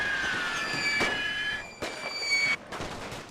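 Gunfire in The Great War: Total War, a WW1 siege battle, as a few sharp broadband reports cut through a steady bed of sustained game ambience and tonal background layers.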